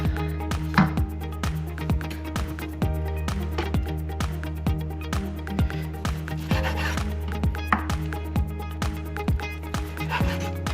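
A knife saws back and forth while trimming fat off thin slices of beef on a cutting board, making a steady run of short, regular rasping strokes close by.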